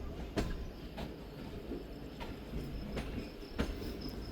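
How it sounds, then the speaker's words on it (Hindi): The Bahauddin Zakariya Express, hauled by an HGMU locomotive, pulls out of Khanpur station and gathers speed: a steady rolling rumble marked by evenly spaced wheel clacks over rail joints, with no voices. "पाँच मिनट स्टॉप के बाद दोस्तों गाड़ी रवाना हुई हमारी खानपुर रेलवे स्टेशन से"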